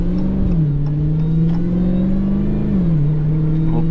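A 2023 Dodge Challenger Hellcat's supercharged engine revs loud and close, a steady rumbling drone that swells and drops in pitch twice as the throttle changes, with no talk over it.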